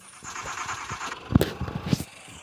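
Pickup truck engine starting in a video game, a short cranking burst that catches into a rough mid-pitched idle, with a couple of sharp thumps, fairly close and without talk.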